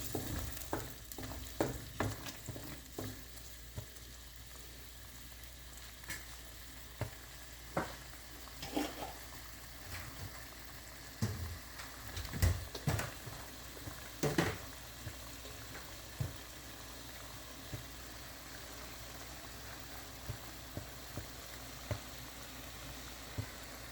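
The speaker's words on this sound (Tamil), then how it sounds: "எல்லா இடமும் கொதிக்க ஆரம்பிச்சுட்டு கொஞ்ச நேரம் சிம் பண்ணி கொதிக்கட்டும்." A pan of egg malai curry with milk bubbles and sizzles steadily as it simmers, with occasional spoon scrapes and clinks from stirring throughout.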